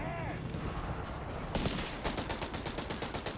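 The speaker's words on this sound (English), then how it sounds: "Assault rifles blazing into the British backs" Assault rifles blaze in a Company of Heroes 3 battle: dense bursts of rapid automatic fire layer over one another, loud and close, with sharper crackling volleys in the second half and a spoken voice under the din.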